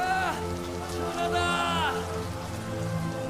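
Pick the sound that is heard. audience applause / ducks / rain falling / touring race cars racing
rain falling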